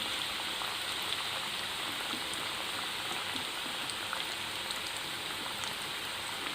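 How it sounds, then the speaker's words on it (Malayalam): Coated chicken pieces for homemade KFC-style chicken fry in hot oil, a soft, even, continuous hiss and crackle with fine pops, heard up close and fairly quiet. "എല്ലാ പീസുകളും ഇതിൽ മുക്കി എണ്ണയിലിട്ട് കൊടുക്കാം."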